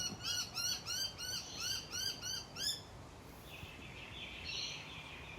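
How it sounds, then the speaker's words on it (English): Birds call outdoors in a rhythmic series of repeated hooting, owl-like notes, fairly faint, followed by a higher softer chirp against a quiet natural background. "And I love these birds."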